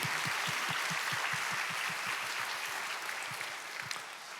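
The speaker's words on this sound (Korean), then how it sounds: "우리 박수 한번 더 하겠습니다." A church congregation applauds its worship team in a steady, dense wash of clapping that carries on throughout, with no voices over it.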